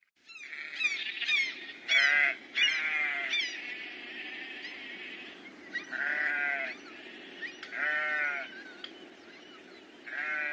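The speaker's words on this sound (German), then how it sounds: "trug Geräusche zu ihm hinüber, das entfernte Rufen der Möwen und das Blöken der Schafe" Sheep bleat in repeated wavering calls, some overlapping, at moderate distance across open countryside, with quiet pauses between them; no clear gull cries stand out.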